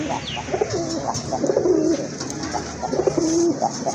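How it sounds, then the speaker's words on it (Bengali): A pair of silver Gorra pigeons at a pigeon market coo softly and repeatedly at close range, with low warbling calls over faint background murmur. "এটা হচ্ছে এক জোড়া সিলভার কালারের গড়রা কবুতর, পুতুল গড়রা কবুতর"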